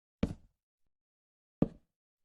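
Blocks being broken in Minecraft, two short crunchy hits spaced about a second and a half apart, each quick and clean against silence.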